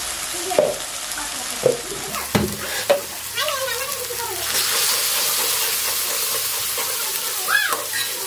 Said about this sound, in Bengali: দেখো সর্ষে লঙ্কাটা আমার মানে অল্প একটু টাইমে আমি কষালাম